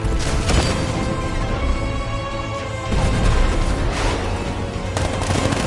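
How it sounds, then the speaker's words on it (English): Continuous heavy tank cannon fire and booming blasts from the video game Batman: Arkham Knight, dense and loud throughout with no pauses. "60mm cannon operational."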